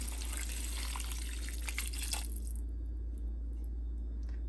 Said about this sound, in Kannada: ಈಗ ಇದಕ್ಕೆ 1 ಕಪ್ ಆಗಷ್ಟು ನೀರು ಹಾಕ್ತಾ ಇದ್ದೀನಿ.